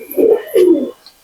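A close, loud Dewaz pigeon, a male, gives two deep rounded coos in quick succession, each swelling and fading, followed by a brief quiet.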